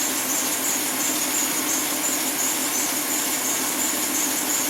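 A Hyundai Sonata engine idles with a misfire, giving a loud, steady mechanical drone that carries on without a break and without any voices.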